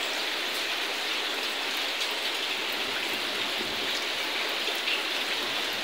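Heavy rain pours down and water runs off a tin roof in a dense, even hiss of falling drops and trickling flow, with no voices.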